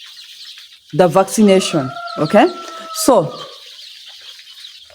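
Baby chicks and chickens in a brooder house cluck and cheep in a loud, busy burst under a man's speech, with faint flock chatter continuing behind.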